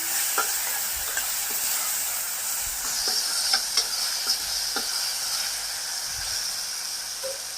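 Ginger garlic paste fries in hot oil in a pan, a steady sizzle and hiss with scattered scraping taps of a spoon stirring, close and alone without talk.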